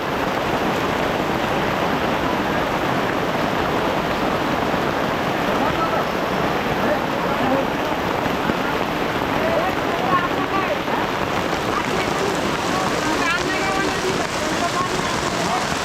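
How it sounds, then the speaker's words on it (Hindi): Fast, swollen stream rushing beside the Duglai waterfall in Balaghat, Madhya Pradesh: a dense, steady roar of churning water, loud and close throughout, with no pause. "तो धारा किनारे के पानी बहुत तेज़ हो गया दोस्तों"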